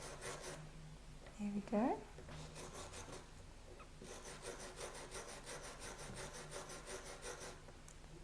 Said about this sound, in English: So simply hold it and brush it to get a matte finish.